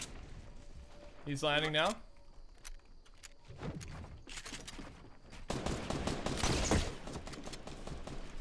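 Fortnite gunfire crackles in short bursts, with a louder, denser volley late in the stretch, mixed with game effects and people talking over the action.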